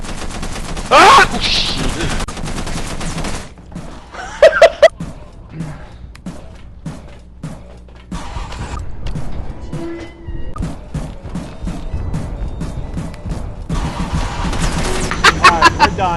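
Bursts of rapid machine-gun fire come from a dog monster in the video game Content Warning, sharp clustered shots amid crashes and game noises, with a player shouting briefly.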